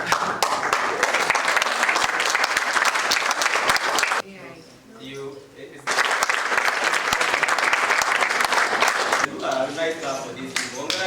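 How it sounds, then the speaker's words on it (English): Crowd clapping in a lecture hall, two bursts of dense, steady applause separated by a short pause with a voice talking, then a third round beginning under more speech. "Yeah, please clap for this."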